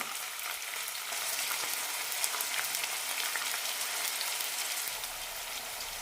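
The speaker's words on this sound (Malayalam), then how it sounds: "രണ്ട് സൈഡും ചെറുതായൊരു ഗോൾഡൻ ആകുന്നത് വരെ വറുത്തെടുക്കാം" Paneer pieces frying in hot oil over medium flame until lightly golden on both sides, a steady dense sizzle and crackle running close and even throughout.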